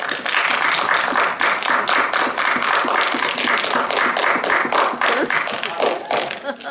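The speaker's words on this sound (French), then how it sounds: "Non, c'est nous qui vous applaudissons." A film team onstage applauds a Paris preview audience with dense, rhythmic clapping, close and loud, with sharp individual claps standing out over the crowd.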